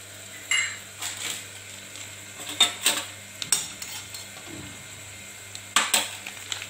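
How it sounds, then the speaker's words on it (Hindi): Crushed cardamom dropped into hot ghee in a pan and stirred, giving a soft sizzle under irregular scraping and clinking of a spoon against metal, with short louder knocks scattered throughout. "अब इस घी में मैं इलायची डालूंगी, कुटी हुई इलायची"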